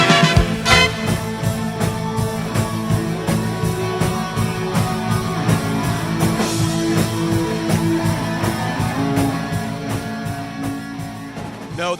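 An 80s new wave cover band plays full-band music with a steady beat of drums, bass, synth-like tones and guitar, loud and continuous throughout with no speech over it.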